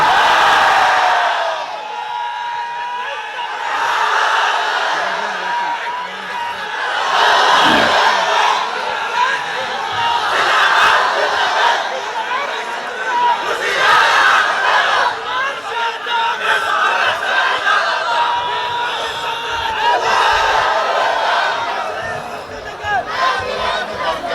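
A large crowd at an Islamic waz gathering chants the Nara-e-Takbir slogan, a loud, massed roar of voices that rises and falls in waves and holds for the whole stretch with no pause.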